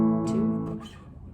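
Two quick downstrokes on a guitar chord, strings ringing clearly and fading over about a second, played alone and close.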